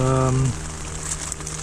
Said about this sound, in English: Fair bit of rain at the moment.